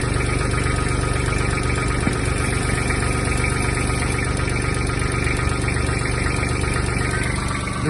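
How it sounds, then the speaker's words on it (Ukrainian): A Kubota GB-18 Japanese mini tractor engine idles steadily and evenly, a close, continuous low rumble with a faint mechanical vibration and no talking. "Двигун працює рівно, чисто."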